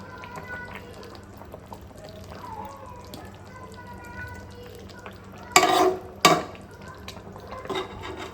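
Hilsa fish simmering in a thin curry in a pan, a soft steady bubbling and sizzle with two louder clattering stirs partway through and a few light scrapes, close by.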